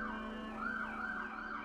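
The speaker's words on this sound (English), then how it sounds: "Ugh, you hear the sirens?" A wailing emergency siren in New York City rises and falls steadily, heard continuously at moderate distance with no talking.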